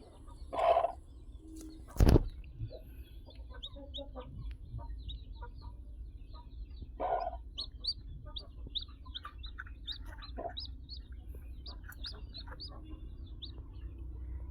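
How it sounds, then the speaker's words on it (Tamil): A newly hatched chick, just emerging from its egg, peeps in a steady run of short, high chirps over a low background hum, with a couple of louder knocks near the start. "பாருங்க கோழி குஞ்சு அப்படியே குஞ்சு அப்படியே வெளியே வருது"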